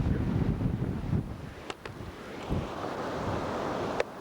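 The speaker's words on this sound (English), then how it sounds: "there's whitecaps all over the Pacific here" Strong wind buffets the microphone over the Pacific off Kauai's Na Pali coast, where the sea is covered in whitecaps; a steady broadband roar of wind and surf with a few faint ticks.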